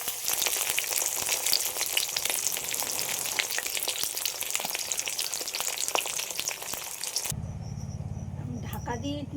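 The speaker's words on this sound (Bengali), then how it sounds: "এগুলো একটু ভেজে নেব" Shrimp wrapped in pumpkin leaves sizzling and crackling in hot oil, a dense steady frying hiss that cuts off abruptly near the end.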